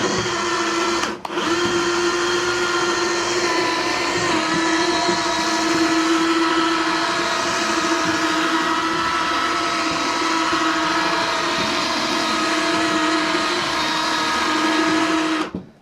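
Power sander working furniture with Diablo sandpaper, a steady close whirring drone with a strong hum that runs almost without break for the whole stretch, briefly dipping near the start, with no talking.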